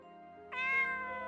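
A cat in the Corpse Party: Book of Shadows video game gives a single clear, drawn-out meow, close and fairly loud over a soft sustained musical tone.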